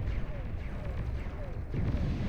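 EMP missiles firing in the Beyond All Reason strategy game, heard as a continuous rumble of distant artillery-like bursts in dense battle noise, with a heavier volley near the end and a commentator talking over it.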